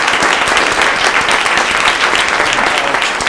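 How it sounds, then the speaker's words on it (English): An audience at a book talk by designer Ayse Birsel breaks into loud, dense applause, many hands clapping continuously and close at full strength throughout. "And let's have another round of applause for Ayse"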